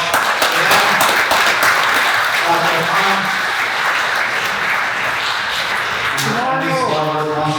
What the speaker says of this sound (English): Let's clap for Allah.